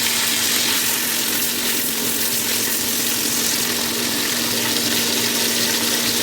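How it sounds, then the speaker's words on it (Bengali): Singhi fish fries in oil with onion and a little salt for a red-spinach curry, making a loud, dense, unbroken hiss of sizzling oil up close with no talking. "পেঁয়াজ এবং তেলের মধ্যে শিং মাছটাকে ভেজে নেব।"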